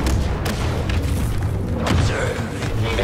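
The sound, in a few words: droid being destroyed, explosion in Battlefront II video game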